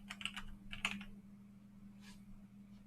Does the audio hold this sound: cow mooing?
no